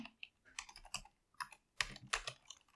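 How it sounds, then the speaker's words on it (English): Keys clatter on a computer keyboard as a column name is typed into an automation tool, in irregular close-up bursts of quick keystrokes with short pauses between and no talking. "So let's type in here name."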